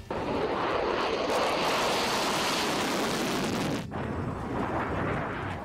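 A loud, continuous roar of fighter jets fills the air, a broad rushing rumble that briefly dips near the end before surging back.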